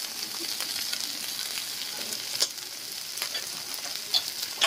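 Turmeric, ginger and garlic paste fries and sizzles in a pan for khichuri, with a steady quiet sizzle and occasional scraping clicks of stirring, no talk.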